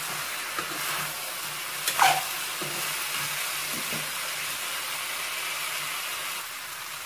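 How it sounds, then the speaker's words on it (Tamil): Drumstick and ginger stir-fry sizzles softly and steadily in a pan, with a few light scrapes and clinks as it is stirred partway through. "இது பிரட்டி மட்டும் விடுங்க, இல்லாட்டி முருங்கைக்காய் பூரா உடஞ்சிடும்"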